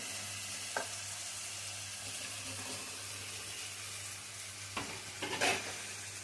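Cauliflower sautéed in a pan for cauliflower thokku, heard as a quiet, steady sizzle over a low hum, with a few isolated scrapes and clatters of a stirring spoon toward the end.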